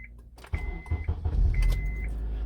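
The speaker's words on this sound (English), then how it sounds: "next thing we have to do is turn the engine on." A car engine is started with a brief cranking burst that catches and settles into a steady idle, heard close and fairly loud.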